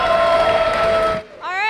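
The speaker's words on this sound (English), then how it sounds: "let's get a drum roll and a huge round of applause for Chi" A crowd at a hackathon event cheers and claps loudly, a mix of applause and shouting that drops off abruptly before a voice resumes.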